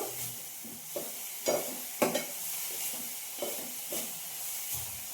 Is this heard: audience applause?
no